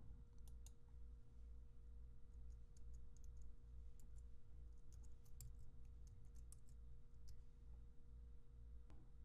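Light clicking of a computer keyboard as a command for viewing iptables firewall rules is typed, faint scattered keystrokes in short bursts over a steady low hum.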